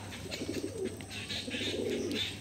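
Giribaz flying pigeons coo in a low, steady murmur, kept for hobby flying, with soft overlapping calls repeating close by and faint chirps above a constant background hum.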